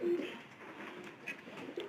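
A pigeon cooing close by, a low throaty murmur that swells and fades in short phrases over quiet background noise.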